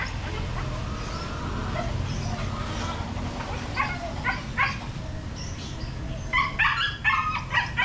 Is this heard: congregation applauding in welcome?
no